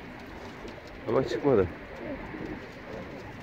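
A pigeon on a rooftop coos twice in a short burst, close and fairly loud, with a voice speaking briefly over the low outdoor hum.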